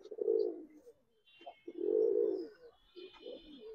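A red-eyed pigeon with red-and-white markings coos in low, throaty bursts, two long rolling coos and a shorter one, close and clear against a quiet background with faint chirps.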